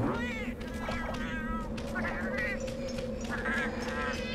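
Cat character meowing in the game Monster Hunter Cross, repeated short meows over steady game music and sound effects, fairly loud.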